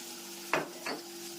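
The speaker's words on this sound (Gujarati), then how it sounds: "મજાનો વઘાર થઈ ગયો છે." Spices hit hot oil for a vaghar tempering, two quick loud sizzling bursts over a quiet kitchen background, with faint stirring.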